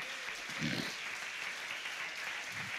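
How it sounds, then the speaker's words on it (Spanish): A church congregation applauds during a sermon, a steady wash of clapping heard somewhat distant and reverberant, with a couple of brief low thumps beneath it. "Fuerte ese aplauso."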